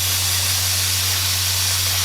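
An airbrush blows out paint as a continuous, close, loud airy hiss over a low steady hum, with no voices.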